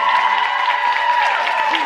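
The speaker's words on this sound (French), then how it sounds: "Tout le monde applaudit" A studio audience applauds at the end of a TV show, a steady wash of clapping running throughout beneath a tonal hum and some faint voices.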